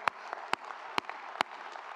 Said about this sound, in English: Come on, clap your hands unto the Lord.